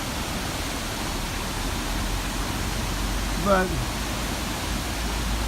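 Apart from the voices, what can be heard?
waterfall at La Paz Waterfall Gardens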